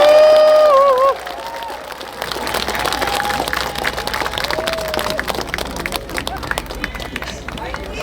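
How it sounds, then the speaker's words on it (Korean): A crowd at an outdoor rally on Gwangju's 5·18 Democracy Square bursts into sustained applause with scattered cheers, following a few seconds of amplified talk over a loudspeaker. "큰 박수 부탁드립니다."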